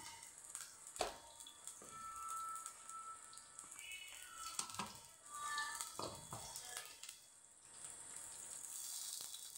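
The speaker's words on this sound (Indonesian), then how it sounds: "Saya kasih bawang merah 1 siung ya, saya goreng biar harum minyaknya" A shallot frying in cooking oil for rica rica kambing, with a gentle sizzle that comes and goes amid stirring clinks and scrapes of a utensil in the pan, quiet and close, with no speech.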